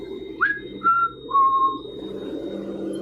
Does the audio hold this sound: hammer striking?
no